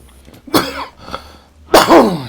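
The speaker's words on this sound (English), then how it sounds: "A little bit of a cough over there." Three close coughs from a man in a gaming session, two short ones followed by a louder, harsher burst, with brief quiet gaps between them and no talk.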